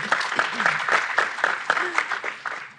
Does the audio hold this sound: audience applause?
yes